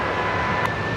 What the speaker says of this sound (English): James, Singapore just passing us now